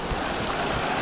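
Mountain stream crossing on the Pacific Crest Trail near Muir Pass, heard as a close, loud, steady rush of flowing water filling the whole short moment.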